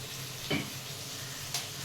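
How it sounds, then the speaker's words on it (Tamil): Mutton biryani masala with yogurt, turmeric and salt sautés in a pan with a steady low sizzle, and two brief stirring scrapes rise above the frying. "இது நல்லா வதக்கிக்கோங்க"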